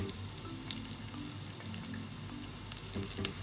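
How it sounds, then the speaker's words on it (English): Chopped garlic hits hot frying oil for a crab stir fry, giving a steady, crackling sizzle with fine pops and spatters throughout, close and moderately loud, with no voices. "Now I am going to add chopped garlic,"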